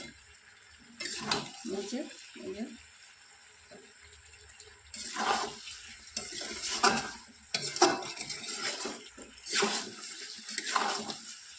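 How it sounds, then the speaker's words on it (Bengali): Chicken and chana are stirred in oil in a pan, with a spoon scraping and clinking against the metal in short bursts over a soft sizzle, close by, no voices. "তেলের উপরেই একটু ভালো করে নেড়ে কষে নেব"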